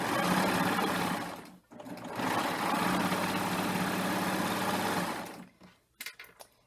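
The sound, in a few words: serger sewing machine stitching woven fabric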